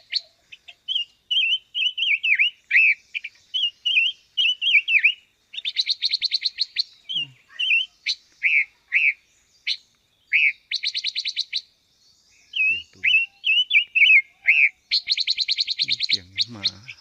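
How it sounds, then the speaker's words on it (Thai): Small birds chirp and trill in a rainy-season forest, repeated bright tweeting phrases and rapid buzzy trills close by, loud against otherwise quiet surroundings. "นกน้อยนะ"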